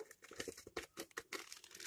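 A plastic packet of crème caramel mix crinkles and rustles up close in a kitchen, with rapid irregular crackles and crumples that come in quick bursts, faint overall.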